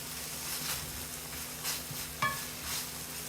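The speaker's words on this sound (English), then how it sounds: "I just want to saute it up with all the other stuff before I add my coconut milk" Thai curry paste and vegetables sautéing in a pan, a steady soft sizzle with gentle stirring scrapes and one brief utensil clink against the pan, no voices.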